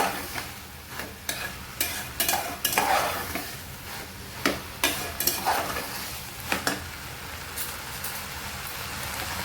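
Vegetables and salt being stirred in a hot pan, rhythmic spatula scrapes and clacks over a soft sizzle, close and steady, no voices.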